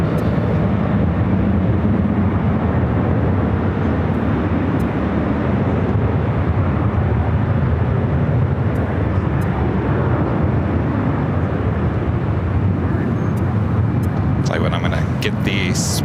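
An Air Tahiti Nui Dreamliner taking off from the north side at LAX, a loud steady jet roar filling the whole span with broadband rumble, heard from nearby airport surroundings.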